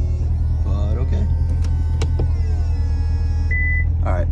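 An electric convertible roof mechanism on a sports car hums steadily over a low engine rumble, with a whining motor tone and a few clicks and a short beep as it moves, while a person talks over it.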